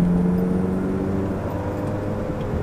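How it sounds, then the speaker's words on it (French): Ferrari 360 with an F1 gearbox, engine cold, droning steadily as it downshifts, a smooth even engine tone that holds near and fairly loud without a sharp blip. "je vais rétrograder un coup, voilà."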